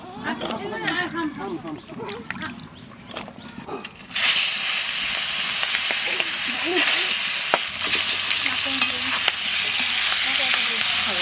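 Magur fish with squash sautéing in a pan, first stirred with scraping while a person talks, then a loud steady sizzle and hiss as the fish hits hot oil, continuing under talk.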